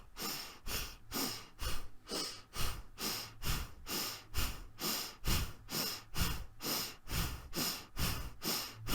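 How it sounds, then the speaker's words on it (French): Slow, deep breathing exercise: a steady run of about fifteen close, audible inhales and exhales that swell and fade in an even rhythm, with no speech. "Je ne pense qu'à inspirer, gonfler mon ventre, expirer"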